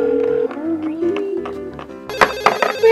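Phone ringing, a loud, repeated electronic ring in short bursts that starts partway through, following a sustained tonal sound.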